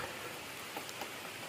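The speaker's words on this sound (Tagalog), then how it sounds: "Ulan." Steady, faint rain patters as a continuous hiss in the Manika Highlands, with a few slightly louder drops standing out.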